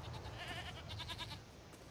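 Several goats bleat in quick succession in the video game Jade Empire, a nasal wavering chorus at close range with no talking.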